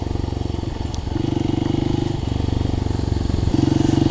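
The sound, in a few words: Kawasaki KLX 300 motorcycle riding over rocks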